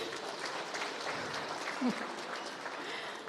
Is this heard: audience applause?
yes